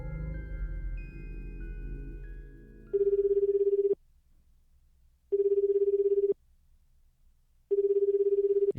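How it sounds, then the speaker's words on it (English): In the game 428 Shibuya Scramble, a cell phone call rings out as three evenly spaced electronic ring bursts with silences between them, following a short stretch of background music; clear and close, with no voices. "Kano immediately pulled out his cell phone and called Tateno's number"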